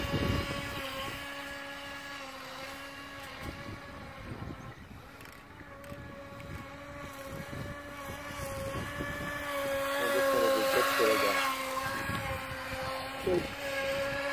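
A small high-revving motor on a Feilun FT012 RC racing boat drones steadily with a buzzing whine, swelling louder as it passes nearer, with faint talk underneath.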